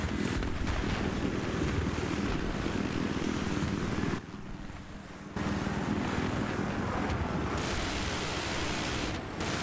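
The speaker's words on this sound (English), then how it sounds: "Spawning on your chopper." A helicopter flies in Battlefield 3 multiplayer on a flying map, a steady roaring rotor and engine wash that fills the scene, dipping briefly about midway before returning at full strength.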